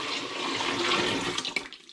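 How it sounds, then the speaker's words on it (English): Water pours in a heavy rush from a big, heavy pan into a home-brewing vessel for a tomato paste wash, a continuous splashing gush that breaks up and trails off near the end. "Right, I'm going for a big pour."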